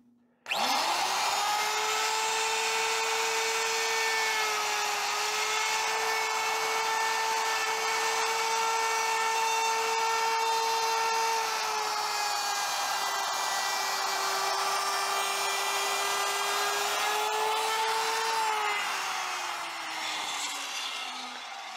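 A wood router cuts steadily through wood for cremation urns, its high whining motor holding one pitch for about twenty seconds with a slight dip, then winding down at the end, loud and close, with no talking.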